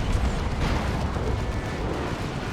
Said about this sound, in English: Tank buster barrages.